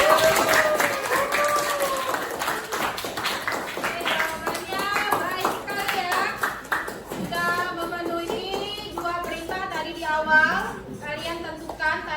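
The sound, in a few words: classroom applause for Satria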